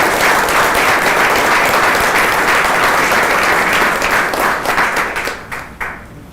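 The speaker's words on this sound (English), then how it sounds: "let's give them a round of applause" A large crowd at a civic event honoring EPB Chattanooga's leadership bursts into loud, dense applause that holds steady for about five seconds, then thins out and fades away.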